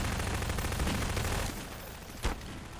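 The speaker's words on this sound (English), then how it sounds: "they're shooting with an SMG" Rapid SMG gunfire from a Half-Life 2: Deathmatch 2vs2 match, a dense burst of automatic shots for about a second and a half, then quieter ongoing fire with one sharp louder shot near the end.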